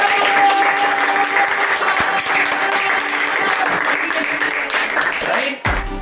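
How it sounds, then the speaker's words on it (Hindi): A group of friends gathered for a 100K subscriber celebration claps steadily, a close, busy patter of hands that fades near the end before a sudden bump. "तालियां बजाओ जल्दी।"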